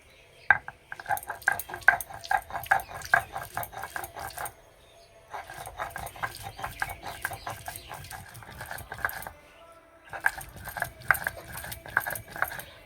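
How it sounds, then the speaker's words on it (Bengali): Cooled tomato chutney is ground by hand on a traditional stone slab (sil), giving rhythmic back-and-forth scraping and knocking strokes in three close bouts separated by short pauses. "আমি সিলে বেটে নিচ্ছি"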